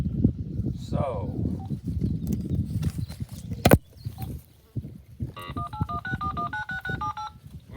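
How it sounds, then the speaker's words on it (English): A telephone redials, giving a quick run of bright keypad tones near the end. Before that there is a stretch of talk with some thumps. "All right, I'm going to have to redial UmMaw here."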